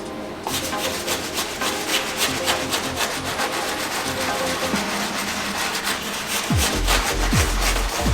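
Steady, close scrubbing of a worn pair of Jordan 12 sneakers with a medium bristle brush, a continuous rough rubbing texture with a few thumps near the end.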